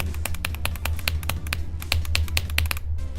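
Key switches on a Wooting keyboard clicking rapidly and irregularly, crisp close-up taps in a steady flurry over a low constant hum, with no voices.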